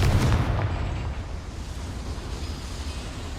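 A Confringo fire spell blast in Hogwarts Legacy erupts as a loud, booming burst up close, then decays into a rumbling, crackling fiery roar that fades over a few seconds, with no talking.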